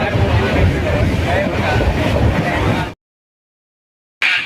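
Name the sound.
Saurashtra Superfast Express train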